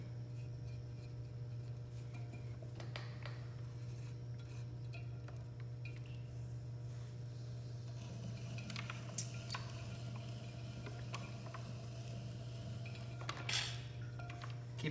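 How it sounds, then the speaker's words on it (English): A clay cup being trimmed on a spinning potter's wheel: a steady low motor hum runs throughout, with light scraping and small taps of the trimming tool, sharper near the end. "Just like trimming other forms on the wheel, gonna make sure to put 3 or 4 lugs of clay down on the rim"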